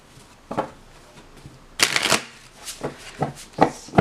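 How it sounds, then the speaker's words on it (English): Tarot cards are shuffled by hand in short bursts of crisp riffling and soft slaps, with brief pauses between them, close and fairly quiet, and no talking. "let's just shuffle for a minute here"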